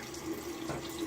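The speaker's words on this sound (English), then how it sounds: "A little water rinse, right back with you." Tap water running over a safety razor during a shave rinse, a steady soft splashing stream, brief and fairly quiet, with no voices.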